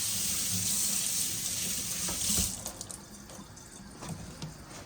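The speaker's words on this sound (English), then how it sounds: "I'm gonna wash my hands." Water running steadily from a kitchen tap into a sink during hand washing, a soft hissing stream that splashes unevenly and thins out into lighter drips and trickles near the end, with no talk.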